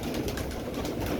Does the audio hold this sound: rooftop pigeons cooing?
yes